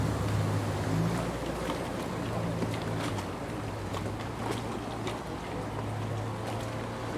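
A motorboat running along a canal in Venice, its engine a steady low drone mixed with the wash of water, loud and continuous throughout with no voices.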